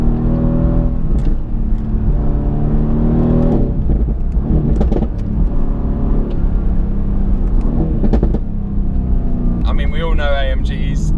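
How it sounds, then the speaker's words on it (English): A loud, rumbling car engine drones and surges throughout, revving up and down, with a person talking over it. "the V8s and the V8 noise, which you can hear right now"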